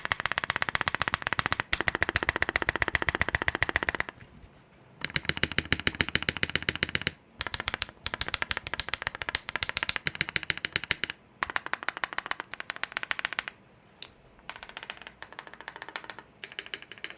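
Rapid typing on the stabilized keys of a Glorious GMMK Pro mechanical keyboard, dense clacking bursts lasting several seconds each, separated by short pauses, close up with no talk.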